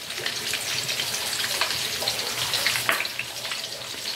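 Light rain falling outside a house with a veranda, a dense, steady patter of many small drops, close and fairly loud, with no speech.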